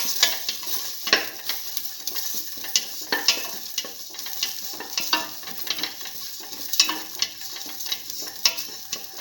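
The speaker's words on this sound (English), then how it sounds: "Keep on sauteing." Ginger and garlic sauté in a pan for bottle gourd and pigeon pea rice, a steady bright sizzle broken by frequent scraping, clinking stirs, close up with no voices.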